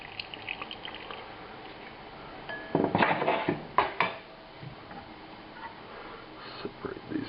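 A pan of hasselback potatoes is drained, with metal pan clatter, a burst of pouring liquid and clanks over a quiet kitchen background, close by.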